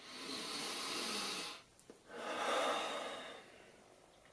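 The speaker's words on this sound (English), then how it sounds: "Just deep breathing." Two slow, deep breaths drawn close to the microphone, each a long airy rush lasting over a second, separated by a brief quiet pause, with no talking over them.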